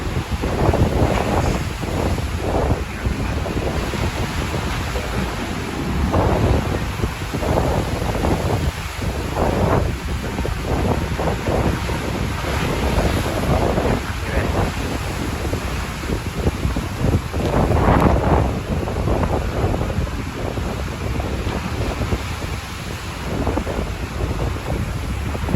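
Strong gusts buffet the microphone at Merak harbour in high seas, a continuous roaring rumble with surging waves beneath, loud and unbroken throughout.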